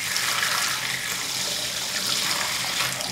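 Water is poured in a steady splashing stream onto an Infinix Note 12 Turbo phone during a water test, a continuous close hiss with no talking.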